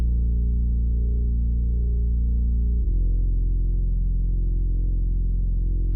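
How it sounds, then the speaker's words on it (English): A deep, loud synth bass drones steadily, shifting to a slightly different low note midway through with a rumbling, buzzy texture. "underneath everything to fill up the low end I added this synth bass."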